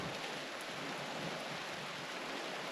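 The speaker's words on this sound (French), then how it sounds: "Petite averse, fait qu'on va attendre un peu" A light rain shower falls at a campsite, a soft, even hiss of raindrops that holds steady throughout, faint and distant, with no voices.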